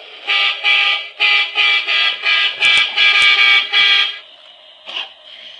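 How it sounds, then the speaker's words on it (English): A child's toy car horn honking, a string of about ten loud, evenly spaced electronic toots heard close up, then a brief pause and one fainter toot. "Honk the horn for her."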